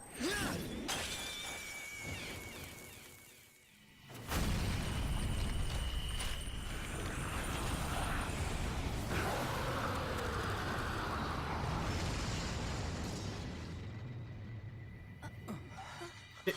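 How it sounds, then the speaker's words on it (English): A bar blows up in the Persona 5 video game: a sharp shattering burst, then a sustained loud rumbling roar with debris-like crackle lasting many seconds before fading slightly. "It literally exploded. Why did the bar explode?"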